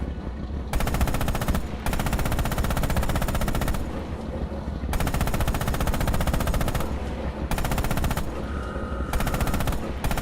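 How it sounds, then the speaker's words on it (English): In the video game Red Orchestra 2, a tank's coaxial machine gun fires long, loud, rapid automatic bursts, broken by a few short pauses between strings of shots, with no voices over the gunfire. "Open fire with the coax MG on those targets."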